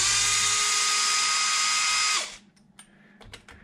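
A power drill drives screws into the upper front bulkhead of a Traxxas XRT RC truck, one loud steady whine for about two seconds that cuts off abruptly, followed by a few faint handling clicks.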